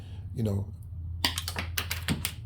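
Gardner & Bender linesman pliers snipping through a short piece of Romex electrical cable, giving a series of sharp crunching clicks close up after a brief murmur of voice.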